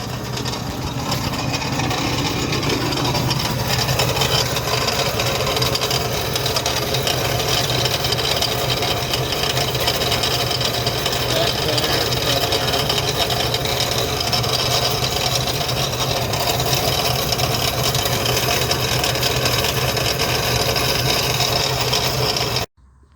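A 4.6 V8 in a 2000 Ford F150 runs steadily, with a scraping noise from the AC compressor pulley under a loud, continuous mechanical drone close by.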